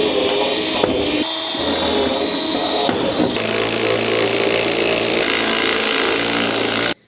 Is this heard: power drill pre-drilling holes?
yes